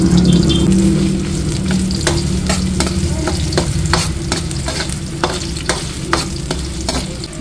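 Onion and ginger sauté in hot cooking oil with a loud, steady sizzle, while a utensil stirs and scrapes the pan in quick, irregular strokes. No one speaks.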